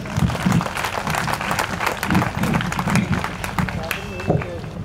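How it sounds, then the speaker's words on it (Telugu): Applause and clapping from a congregation at a Christian memorial gathering, fairly loud and steady throughout, with voices and low murmurs mixed into the clapping. "చప్పట్లు కొడుతూ గాడ్ బ్లెస్ యూ."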